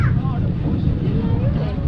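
A steady low motor rumble with wind and water noise as a boat pulls away from the shore in the Gili Islands, voices talking over it.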